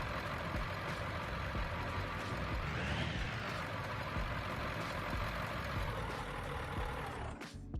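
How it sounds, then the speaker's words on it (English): A truck in the BeamNG.drive driving game rumbles steadily at night while being parked, its engine drone loud and continuous, then cutting off abruptly just before the end. "Get this truck parked up."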